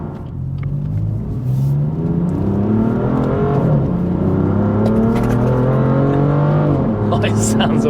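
A BMW F82 M4 Competition engine revving and pulling under acceleration, a loud, close rumbling roar whose pitch climbs and steps through gears, with people talking over it.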